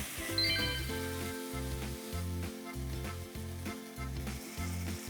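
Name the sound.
ginger pork (shogayaki) sizzling in a frying pan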